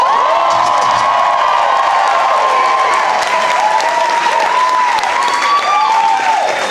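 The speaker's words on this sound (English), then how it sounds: "Audience, make some noise if you want to hear more from Zilla Bodness." A loud comedy show crowd in New York claps and cheers continuously, with whoops and shouts rising over steady applause.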